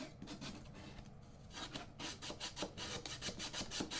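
Rapid, repeated scratchy rasping of sandpaper rubbing against the edge of a painted barn-wood board, close and steady, with short pauses between bursts of strokes.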